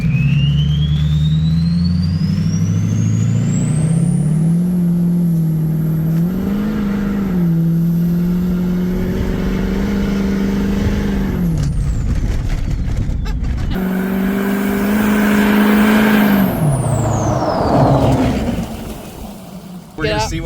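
A Ford 6.0 Powerstroke diesel pickup truck engine revs up hard and climbs in pitch, drops briefly as it shifts, then roars up again before easing off, loud and close.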